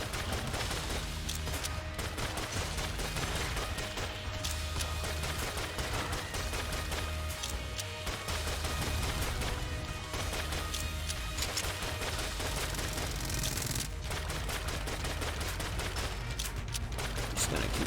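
Continuous rapid gunfire in the game Enter the Gungeon, bursts of shots and impacts layered over dense game music and effects, loud and sustained throughout.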